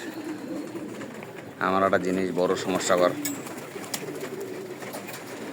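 Pigeons coo in a low, rolling burst close by, with someone talking over the birds.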